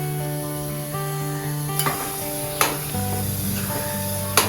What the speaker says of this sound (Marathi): आपण आता हे कढईमध्ये टाकून देऊया.